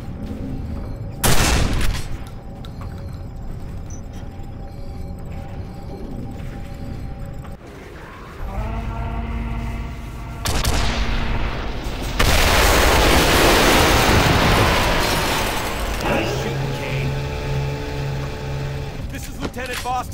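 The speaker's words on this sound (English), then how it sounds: "Kane, hop in the cannon and see if you can't blow open the door to the access corridor" Loud blasts and bursts of gunfire as a cannon fires to blow open an access-corridor door in the Quake 4 video game, with sharp explosions, a long roaring surge and rumbling machinery, speech weaving in between.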